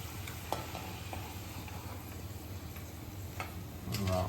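Bhungla, hollow snack tubes, fry a few at a time in hot oil with a faint, steady sizzle and occasional light ticks, with no talking.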